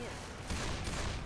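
Gunfire from the video game Left 4 Dead 2 forms a short, dense burst of rapid shots, fairly loud and continuous, with a voice talking faintly underneath.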